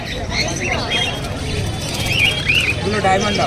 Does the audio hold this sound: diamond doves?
yes